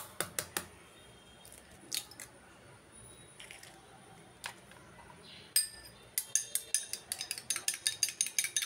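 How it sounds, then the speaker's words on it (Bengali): An egg is cracked into a pan while mashkalai dal cooks on the stove, giving short sharp clicks and taps of shell and utensils, followed by a run of quick, rhythmic clinks close by, with no talking. "ডিমটা ফাটিয়ে এখন দিয়ে দিলাম"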